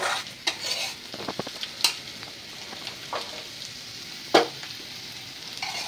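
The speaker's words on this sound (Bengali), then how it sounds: "চিংড়ি মাছ দিয়ে করলা ভাজি।" Bitter gourd with shrimp frying in a pan, a soft steady sizzle with occasional sharp spatula scrapes and clinks against the pan, close by and without talk.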